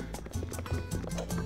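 Bulls stampeding in the PS1 game The Emperor's New Groove, a rapid, continuous patter of hooves with loud rhythmic thumps throughout.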